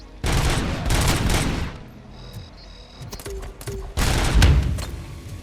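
Rapid bursts of gunfire and booming grenade blasts from the RoboCop Rogue City shooter game, loud and close, with two heavy volleys separated by quieter clicks and reload sounds.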